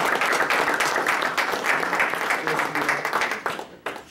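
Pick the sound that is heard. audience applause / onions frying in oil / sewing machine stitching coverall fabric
audience applause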